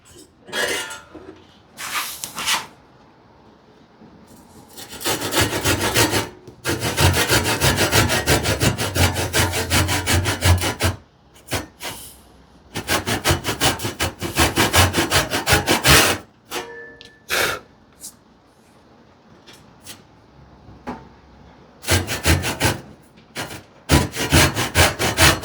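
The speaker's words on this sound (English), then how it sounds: "So it's a larger saw which I don't necessarily need for this one" A Bad Axe hand saw cuts wood for a homemade rebate plane in loud rhythmic bursts of push-and-pull strokes, separated by short pauses.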